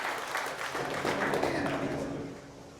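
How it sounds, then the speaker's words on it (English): A small group claps at a powerlifting intensity seminar in a barbell gym after a lifter's set, a soft, fairly steady patter of hands that fades toward the end. "All right, you can clap for that."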